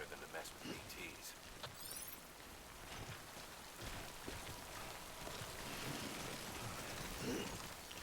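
Steady rain patters over the landscape in Death Stranding, a soft continuous hiss with scattered drops and faint background tones, moderately quiet throughout.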